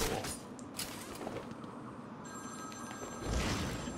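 Telephone ringing inside the Batman: Arkham City video game, heard as repeated bell-like rings over game background noise, with a faint voice speaking briefly.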